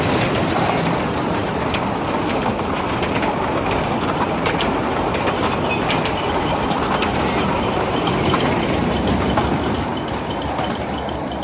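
A train arriving at a station near Mumbai rumbles and clatters in a loud, steady wash of wheel and carriage noise with faint squeals, no voices.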